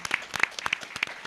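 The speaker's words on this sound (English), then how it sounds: "If we could just give them a round of applause for doing that." Scattered hand claps from an audience at a Women's History Month networking event hosted by a theater, quick and overlapping for a moment, fairly faint and distant.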